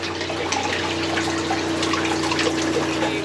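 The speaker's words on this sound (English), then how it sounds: "now we're gonna do a shower" Water running from an outdoor shower on a sailboat, a steady close splashing flow with trickling and dripping and a faint mechanical hum underneath.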